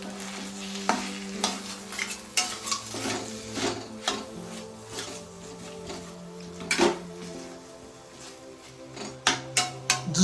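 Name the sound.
stirring chicken dry fry after adding coriander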